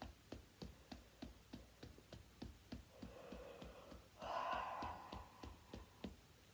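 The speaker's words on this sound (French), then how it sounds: "On laisse venir le bâillement" A long breathy yawn rises midway through an upper back and shoulder relaxation exercise, set against a steady, quiet ticking that continues throughout.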